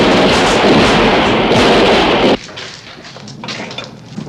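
A deep, rumbling blast roars loudly for about two seconds, then cuts to quieter rolling booms and crackles, suggesting artillery fire in a wartime film scene set around a Berlin bunker.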